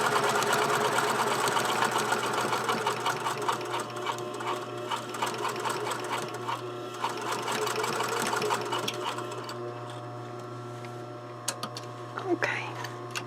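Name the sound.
sewing machine stitching neck facing to shoulder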